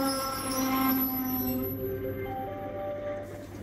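A train at a railway station in Sochi, Russia, lets out long, tonal wheel squeals and metallic whines that drift and fade over a low rumble, moderately loud and steady, with no voices.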